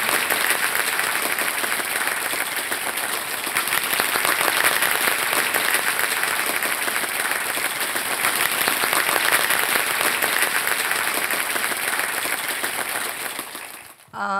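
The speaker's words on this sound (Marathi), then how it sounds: "छानशी ही भेट जरा टाळ्या जोरदार त्यांच्यासाठी झाल्या पाहिजेत." Audience applause at a prize-giving event for a senior citizen: a dense, steady wash of clapping from a large crowd, sustained and loud for about fourteen seconds before cutting off abruptly.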